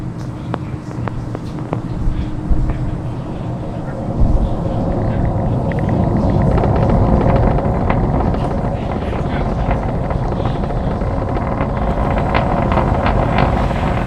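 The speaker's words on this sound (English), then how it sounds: "Falcon 9 has successfully lifted off from Launch Complex 39A at Kennedy Space Center" A SpaceX Falcon 9 rocket lifting off from Launch Complex 39A at Kennedy Space Center produces a loud, continuous, broadband roar with heavy low rumble and crackle throughout, with a voice talking over it.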